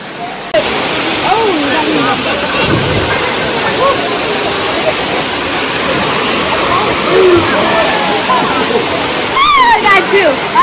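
A family outing beside a cold woodland waterfall near swampy woods: a loud, steady roar of falling and splashing water fills the scene throughout, with voices talking over it now and then.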